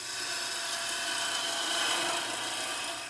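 A Crown Cryo turning tool cuts a bevel on wood spinning on a lathe, making a steady, close, abrasive hiss and scrape that swells slightly in the middle and continues throughout without speech.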